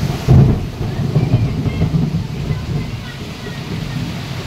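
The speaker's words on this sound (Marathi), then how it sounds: "मंडळी विजा भरपूर कडाडतात." A deep thunder rumble during torrential rain in Mumbai opens with a loud crack and then rolls on and slowly fades beneath steady, heavy rainfall.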